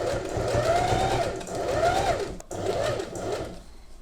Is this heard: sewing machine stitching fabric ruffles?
yes